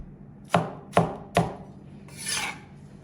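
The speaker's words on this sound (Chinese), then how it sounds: "西红柿去皮以后，我们给它改一下刀，然后给它切成条，我们再给它切成小黄丁。" A knife chopping peeled tomato on a cutting board, three sharp evenly spaced knocks followed by a brief scraping sweep, with no voices.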